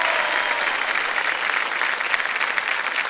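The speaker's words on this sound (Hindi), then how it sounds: "जोरदार तालियां बज जाए इनके लिए।" A studio audience on the KBC quiz show bursts into loud, sustained applause for a contestant, dense clapping filling the room without a break.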